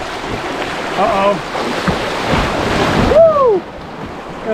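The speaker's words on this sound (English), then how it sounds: "Got a little water in the kayak." Water rushes and splashes against a kayak running rocky rapids on a Florida spring run at Juniper Springs, loud and turbulent close by, ending with a short whoop-like swoop before the noise drops away.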